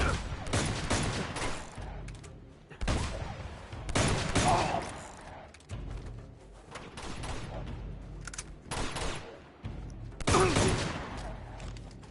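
Pistol gunfire in the video game Uncharted, heard as a few loud bursts of shots separated by quieter stretches.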